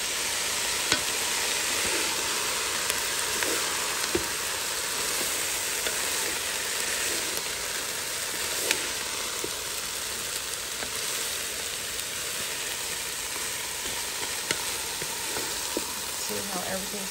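Vegetables sizzle steadily in ghee and curry with added water and salt in a pot, a dense continuous frying hiss with faint occasional clicks from stirring, close and even throughout.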